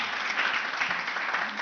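Audience at a final award session clapping for a competing team; a short, steady patter of crowd applause, moderately loud and continuous throughout.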